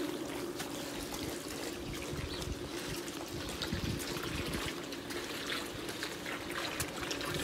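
Water trickles and streams steadily into a pool, a soft continuous splashing with no voices.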